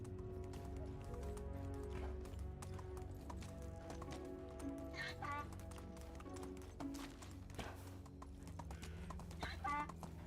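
A horse gallops in the medieval life-sim game Medieval Dynasty, its clip-clop hoofbeats running in a fast steady rhythm under quiet background music, with faint talking partway through.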